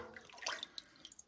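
A weighted water clock used to time turns for drawing water: a brief, soft trickle and splash of water flowing out, faint and close, with no one speaking.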